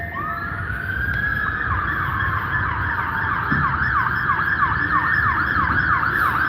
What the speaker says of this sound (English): that also sounds like a fire engine